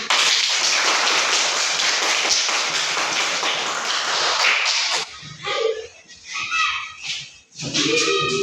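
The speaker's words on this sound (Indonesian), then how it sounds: "tepuk tangan sekali lagi" A classroom of students clapping together, a dense burst of hand claps for about five seconds, then scattered taps and murmuring voices as it dies down.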